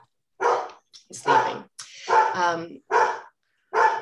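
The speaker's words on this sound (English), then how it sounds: "the mailman came and my dog is barking." A pet dog barks in sharp, loud bursts at a mail carrier indoors, five or six barks spaced about half a second apart with whimpery tails, while a person talks briefly between them.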